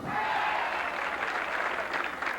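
Crowd applause at a 1978 professional bowling tournament after a strike, a continuous moderately loud patter of clapping lasting a couple of seconds.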